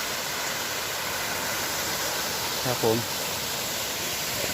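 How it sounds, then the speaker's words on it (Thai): Steady broadband rush of the Sarika waterfall pouring down from a ledge above, close and constant throughout, with a brief spoken phrase near the middle. "เป็นน้ำตกข้างบนนะครับ เป็นสายลงมาเลย"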